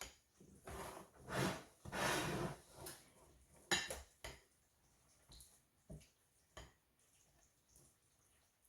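Spoon or utensil scraping and clinking against a bowl while garlic powder is stirred into butter for garlic knots, several rubbing strokes followed by lighter scattered taps, no speech.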